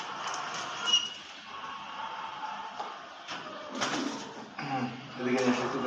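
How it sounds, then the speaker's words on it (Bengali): Pet pigeons kept in a home coop, pairs sitting on eggs, give soft low coos and rustles at close range, with a voice audible at times alongside them. "আর নিচে আর এক জোড়া কবুতর আছে।"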